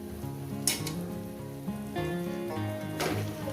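Chicken added to spice masala in a hot pan for a chicken and potato curry, giving a steady crackling sizzle with a few louder bursts as pieces hit the oil.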